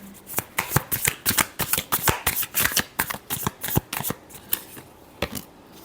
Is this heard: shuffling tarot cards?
yes